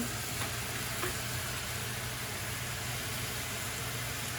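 Pork saltimbocca sizzling in a pan, a dense, even hiss that stays steady throughout, moderately loud and close, with a faint low hum underneath and no speech.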